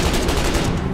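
Gunfire in the war game Foxhole, a brief, loud, continuous rattle of rapid shots with no pause.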